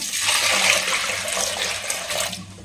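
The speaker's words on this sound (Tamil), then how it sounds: "ஸோ வந்து தண்ணி சேர்த்துக்கலாம்." Water pours steadily into a cooking pot over rinsed lentils, a continuous close splashing stream that runs alone for a few seconds, easing slightly at the end.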